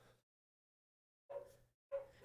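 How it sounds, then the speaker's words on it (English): Neighbour's dogs bark just outside a window in two or three short, faint bursts separated by near silence. "can you hear my neighbor's dogs?"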